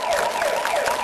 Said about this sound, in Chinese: 警车呀！